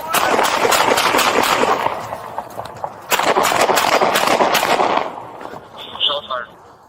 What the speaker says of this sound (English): The officer drew his gun and fired several rounds at the suspect